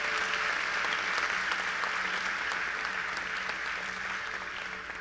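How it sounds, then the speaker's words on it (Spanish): Sustained applause from a church congregation, dense and even clapping that holds for several seconds and gently fades toward the end. "¿Cuántos le pueden dar un fuerte aplauso al Señor?"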